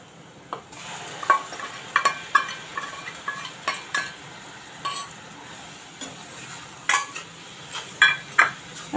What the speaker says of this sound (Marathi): आता हे वाटण आहे ते पण जरा हलकं परतून घेऊया तेलावर.